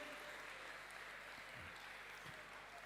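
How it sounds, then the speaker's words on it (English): Audience applause for comedian Tim Vine at a live comedy show: dense, continuous clapping from a crowd, steady and fairly distant throughout. "Give him a big round of applause"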